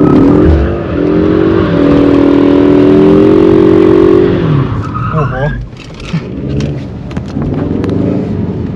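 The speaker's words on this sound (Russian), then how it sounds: "Резину пожег." A car drifts and burns rubber on a road. Its engine roars loud and close, then its tires squeal sharply in a brief skid before the engine settles back, with voices heard inside.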